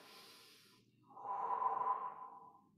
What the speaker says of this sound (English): One more time, nice deep breath.